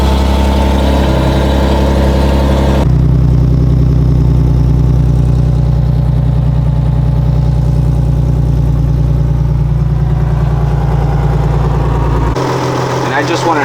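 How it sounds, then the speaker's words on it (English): An Infiniti G37 engine with an exhaust leak idles smoothly with a loud, steady, low hum close to the microphone. The tone shifts slightly near the end. "Look how well this engine idles. It's very smooth. It's not choppy at all."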